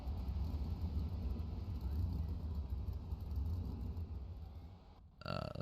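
Race car engines during a night race in the DraftyCar 2 video game make a steady, low, droning rumble that drops briefly before a sharp, brighter burst near the end.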